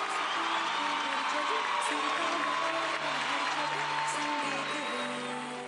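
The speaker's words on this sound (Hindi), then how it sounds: "जोरदार तालियां हो जाए इनके लिए" Studio audience applause and some cheering on a TV singing show, a sustained broad roar that fades slightly at the end, with music and a voice running underneath.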